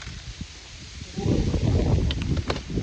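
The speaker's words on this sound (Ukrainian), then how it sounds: "сьогодні такий вітер ужасний" Strong wind blows outdoors at a fishing spot, a low rumbling buffet against the microphone that swells louder partway through, with faint rustling.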